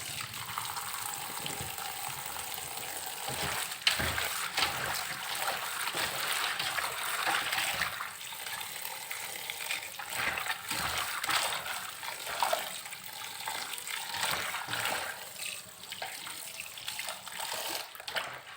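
Cabbage and other vegetables washed by hand in plain water in a basin: continuous splashing, sloshing and trickling water, close and fairly steady, with no talk.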